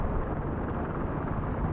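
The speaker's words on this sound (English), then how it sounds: "attack chopper by the cranes." An attack helicopter in a video game roars past, a steady, loud, broad whooshing rotor and engine drone that holds without breaks.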